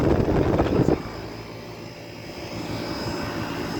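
An older Armstrong air conditioner runs nearby with a steady whooshing hum and drone, louder and rougher for the first second before settling into an even, continuous roar.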